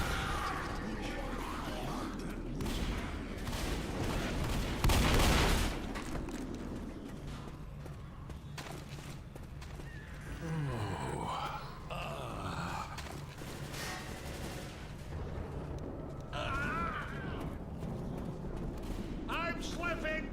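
Gunshots ring out in Left 4 Dead amid a chaotic zombie fight, with one loud close blast and scattered shots under game noise, groans and occasional talking.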